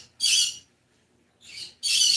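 Pet parrots squawking indoors: two harsh, piercing bursts, a long one then a shorter pair after a pause, loud and close with no talk.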